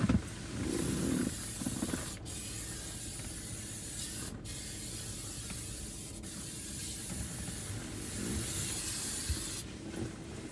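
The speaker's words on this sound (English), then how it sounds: "Let me spray my back seat." An aerosol can hisses in several sprays inside a car, with short pauses between bursts, fairly close and steady.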